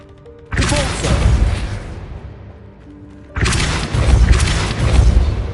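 Two heavy booming blasts of a Confringo fire spell in Hogwarts Legacy, each a loud broadband burst trailing into rumbling decay, the second longer and louder than the first.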